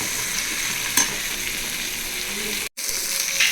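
Cut eggplant and potato sizzle as they sauté in a pan while cooking a Tamil dried-fish curry, a steady close frying hiss with occasional stirring clinks and a momentary dropout.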